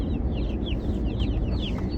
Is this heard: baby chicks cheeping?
yes